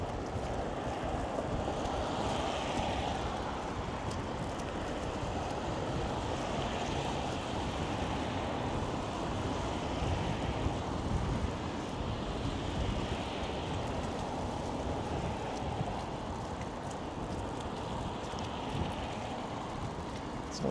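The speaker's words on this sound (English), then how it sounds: "got some major wind happening now" Strong, gusting gale-force wind roars steadily outdoors during a wet snowfall in Toronto's Cabbagetown and Regent Park, a loud continuous rush buffeting the microphone with no speech.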